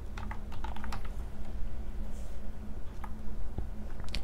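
Rapid clattering keystrokes on a computer keyboard while writing smart contract code, close and steady with irregular clusters of clicks, no talking.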